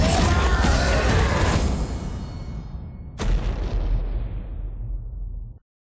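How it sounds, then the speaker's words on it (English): Explosion in the video game Deadlight: a loud, broad roaring blast that fades, then a second sharp burst with rumbling debris, ending abruptly in silence, no voices. "Wait, what caused the explosion?"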